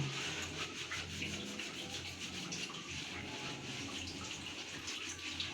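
Wet scrubbing and rubbing of hair being lathered with shampoo during a bath, a steady close-up squishing and rubbing texture with a faint watery wash underneath, continuous throughout with no talking.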